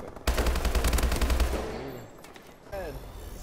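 Rapid automatic gunfire in the shooter Call of Duty: Advanced Warfare: loud, dense bursts of shots with heavy low thumps that cut off after about a second and a half. A voice talks over the firing and continues after it.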